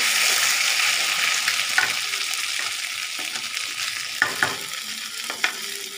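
Muri ghonto frying in a pan while it is stirred, a steady close sizzle with occasional scraping strokes and light clicks of the spoon.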